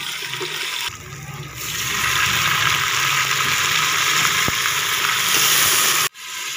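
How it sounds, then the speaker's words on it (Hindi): Ginger and garlic go into onions already frying in a pan, setting off a loud, steady sizzle that surges after a brief lull and holds for several seconds before cutting off near the end. "अल्हम्दुलिल्लाह से हमारा प्याज फ्राई हो गया। अदरक लहसुन में शामिल कर लेते हैं।"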